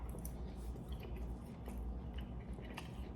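Grilled steak, fresh off the grill, being chewed close to the mic with soft, moist squishing bites over a steady low background hum.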